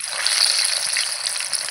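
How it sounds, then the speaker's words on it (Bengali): Chicken satay fries in hot oil, a close, steady hiss and crackle of sizzling that holds without a break. "এগুলো ভাজা হতে থাক, তারপরে নাড়বো।"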